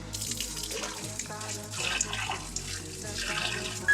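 Water pours and splashes steadily for a Monstera plant being potted on a coco fibre pole, a close trickling flow with small drips and clinks, fairly quiet throughout.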